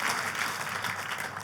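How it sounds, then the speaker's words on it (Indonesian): A church congregation claps together during a sermon, a short burst of steady, soft clapping from many people at a distance. "Kita kasih tepuk tangan yang meriah buat Tuhan kita."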